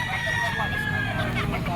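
A bull stag gamecock crows once in a long, drawn-out call over a steady background of outdoor market noise and faint voices.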